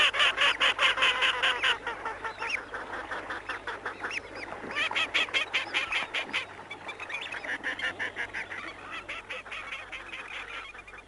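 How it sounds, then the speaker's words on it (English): Grey teal ducks give rapid, repeated chuckling calls in a wetland, a busy, steady, pulsing chatter of several birds heard fairly close with no voices. "there's the chuckling call of grey teal, one of the commonest sounds in our wetlands"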